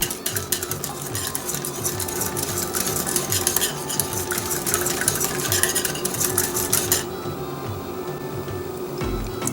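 Watergate salad is stirred in a bowl, a utensil scraping and clinking against the sides in quick repeated strokes, loud and close with no voices.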